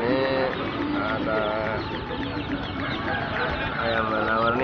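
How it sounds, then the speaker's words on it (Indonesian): Chickens cluck and cackle steadily at the Mayang live chicken market in the morning, a dense nearby chorus of birds with voices talking in the background. "situasi pasar ayam Mayang sekarang seperti ini karena masih pagi, masih kurang begitu ramai"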